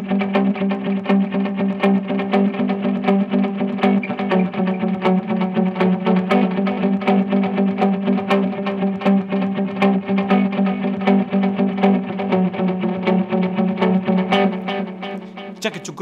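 Electric guitar played through a pedalboard of effects, a dense, continuous distorted strumming with a thick low rumble underneath, steady and loud for the whole stretch before easing off at the end.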